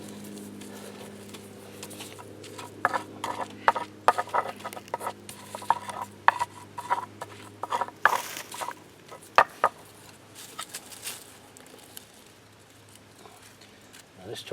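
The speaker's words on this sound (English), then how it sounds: "We're going to grind this up as fine as we can get it." Hot charcoal is crushed and ground as fine as possible, giving scattered crunching and scraping bursts of varying loudness close by.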